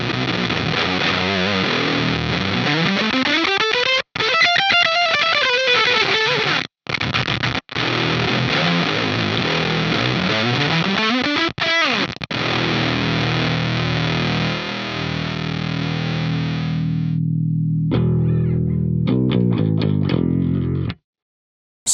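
Heavily distorted electric guitar through a Tallon Electric fuzz pedal, thick fuzz, sweeping bends and sustained chords, loud and close, with brief gaps of silence before a final choppy burst.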